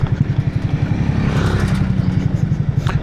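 A Grab rider's motorcycle travels over a bad, rough road, its engine droning steadily in a low pulsing rhythm close by, with faint rattling from the bumps and no talking.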